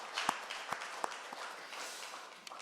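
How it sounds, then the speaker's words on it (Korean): A church congregation at a Sunday worship service gives a faint, distant round of applause, a soft wash of clapping with a few sharper individual claps standing out. "칭찬의 박수 한번 하실까요?"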